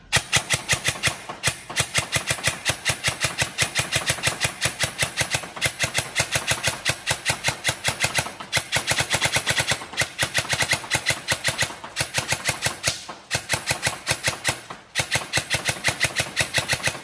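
An upgraded VFC DSG airsoft electric gun fires on full auto in long, rapid bursts of dense mechanical rattling, loud and close, with only brief pauses between strings and no talking.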